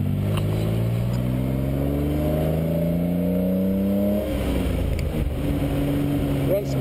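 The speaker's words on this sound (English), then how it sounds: "And it does have the overdrive, which you can hear just kick in." A 1967 Austin Healey engine climbs in revs on an open road, a low rising drone that sweeps upward steadily, then settles as the overdrive engages, with a voice talking over the engine.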